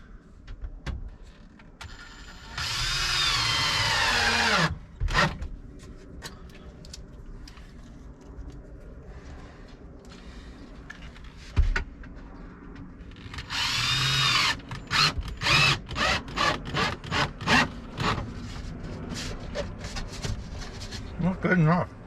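A power drill drives one or two screws into wood while building a camper trailer. Two long, loud whirring bursts are followed by a run of short, clipped trigger pulses, with handling knocks and some talk between them.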